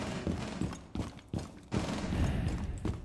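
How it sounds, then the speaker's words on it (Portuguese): Several sharp gunshots crack in quick succession in Rainbow Six Siege amid dense, noisy game background, with brief pauses between bursts. "Foi a Valk que passou aqui, deu um tiro."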